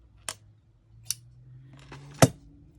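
Scissors snip through blue material in three crisp, separate cuts, close and clear against a quiet background with a faint hum.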